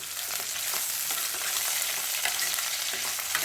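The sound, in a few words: onions and green chillies frying and being stirred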